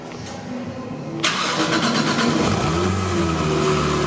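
A truck engine cranks and catches, then roars loudly and settles into a rough idle with a couple of revs, close by and unaccompanied.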